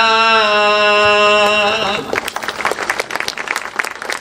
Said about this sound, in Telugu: ఆనందించి చప్పట్లు కొట్టారు లేదా